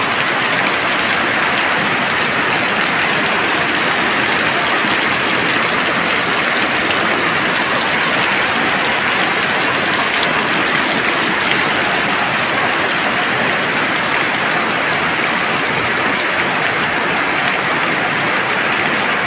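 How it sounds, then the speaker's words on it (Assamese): Heavy rain pours down in Assam as a dense, unbroken hiss and roar that stays loud and steady from start to finish, with no voices. "এনেকুৱা বৰষুণ মই সংৰক্ষণ কৰিছোঁ মোৰ ভিডিঅ'ত"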